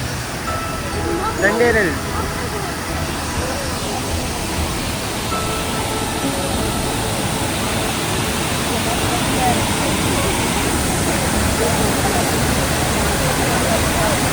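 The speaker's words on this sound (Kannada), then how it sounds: "ತುಂಬ ಫೋರ್ಸಲ್ಲಿ ಇಳಿಯುತ್ತಿದೆ ನೀರು." Rushing water flows down with great force, roaring steadily and loudly throughout, a dense continuous wash of sound with no breaks.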